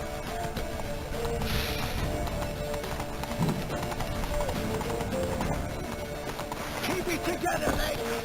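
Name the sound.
horse hooves galloping in a video game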